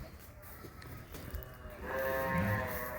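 Two lambs bleat in a farm barn, their calls rising near and loud in the latter half over a low background hum.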